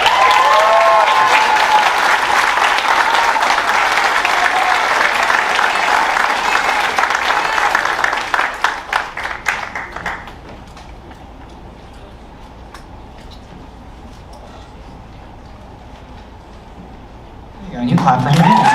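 A school band awards ceremony audience applauds a most improved student, loud sustained clapping that fades after about eight seconds into quiet room noise, then a voice starts speaking at the end.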